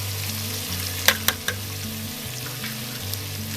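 Whole spices frying in a pan with tomato, garlic and onion, a steady close sizzle with a few sharp clinks of a utensil against the pan, no voices.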